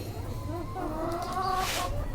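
Sylhet hill chickens, both roosters and hens, clucking near at hand while pecking at feed on the ground, with short overlapping calls over a steady low background.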